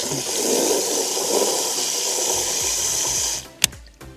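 Water gushes steadily from an outdoor campground spigot with a broad hiss, then cuts off, followed by a couple of sharp knocks.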